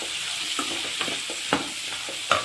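Onions fry in a pan for paneer curry, a steady close sizzle with occasional soft stirring scrapes and clicks from a utensil against the pan.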